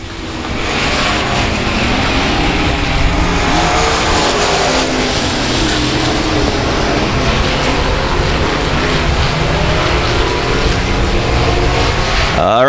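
Race cars roar continuously around the oval at South Texas Speedway, a dense, loud wash of engine noise from a pack running close together, with no voices over it.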